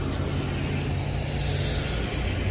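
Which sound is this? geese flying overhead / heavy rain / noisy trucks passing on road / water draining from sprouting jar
noisy trucks passing on road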